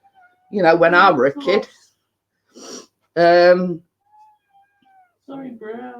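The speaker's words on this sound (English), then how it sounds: "if you can hear a meowing" A cat meows loudly and drawn-out up close, with a few short chirpy meows after a pause; a person speaks briefly between the calls.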